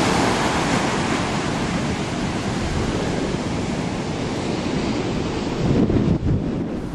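Surf rolls onto a deserted Kauai beach with treacherous waves in the early morning, a loud, continuous roar mixed with wind buffeting the microphone and no voices.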